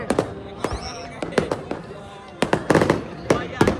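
Firecrackers and fireworks burst at the Golden Temple during Baisakhi celebrations, with a rapid string of sharp cracks and pops, some nearer and louder, as people talk nearby.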